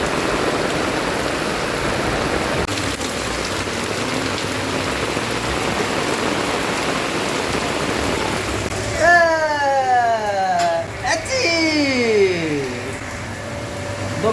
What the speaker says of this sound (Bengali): না বৃষ্টি শুরু হয়ে গেছে।